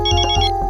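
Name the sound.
mobile phone ringtone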